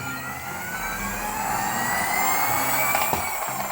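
An engine runs with a steady, rising whine and a low rumble underneath, continuous and fairly close, with a brief clatter near the end.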